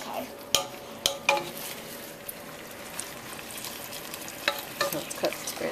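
Spinach for saag paneer cooks down in a pan with a steady close sizzle, broken by a few sharp clinks and scrapes of a utensil stirring against the metal.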